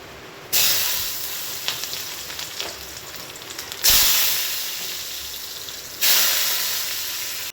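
Chopped potatoes hit hot oil in a wok with a loud hiss, then sizzle steadily; the bursts repeat three times, each loud start easing into a softer fry.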